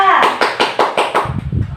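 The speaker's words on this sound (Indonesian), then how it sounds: "Tepuk tangan untuk kelompok A." Students in a classroom clap together for a group, a quick run of about six even, loud claps in steady rhythm, followed by a few softer trailing sounds.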